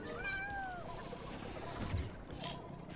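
Jetpack Cat from the video game Overwatch gives a rising and falling meow near the start, followed by softer game effects and a brief high chirp.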